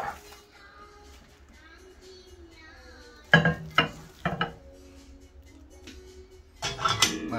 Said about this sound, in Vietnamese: Giờ thì mình bỏ vô lò vi ba mình hâm